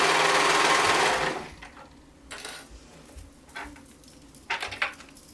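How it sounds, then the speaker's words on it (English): A sewing machine runs fast and loud for about a second, stitching elastic onto a dress bodice, then stops, leaving light clicks and fabric handling nearby. "Now I'm just going to go all the way around, sewing this all together."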